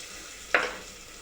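Turmeric added to hot oil for tomato rasam gives one sudden sharp sizzle that flares up close and fades quickly over a quiet background.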